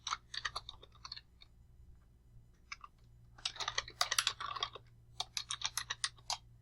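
Typing on a computer keyboard, heard as quick, light clicking keystrokes in uneven bursts with brief pauses, close but quiet, with no talking over a faint background hum.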